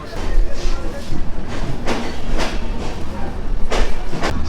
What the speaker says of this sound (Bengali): আমাদের ট্রেন মোটামুটি 11:35 যশোর স্টেশন, যশোর জংশন ছেড়ে দিল